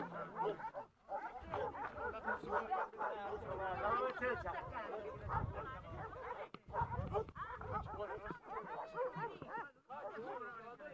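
Dogs bark and yip in a busy mix in front of a church, with people talking in Italian over them throughout, the sounds loud and close.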